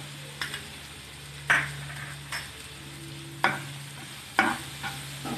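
Half a teaspoon each of chili and turmeric powder being stirred into arbi masala in a pan: a low steady sizzle with four or five distinct spoon scrapes and clinks at uneven intervals, close and alone.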